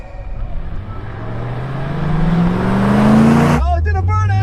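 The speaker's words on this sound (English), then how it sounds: "Oh, it did a burnout!" Chevrolet C3 Corvette launching in a burnout, the engine note climbing steadily and loud as it accelerates hard for several seconds before cutting off abruptly, followed by an excited voice.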